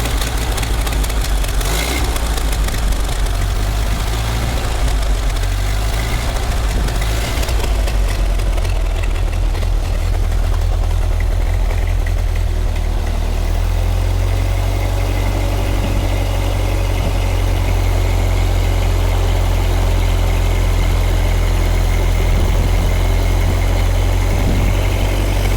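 Rebuilt engine of a 1931 Ford Model A Woody Wagon idling slightly lean, a loud, steady low rumble that runs the whole time and settles into a smoother, even drone partway through.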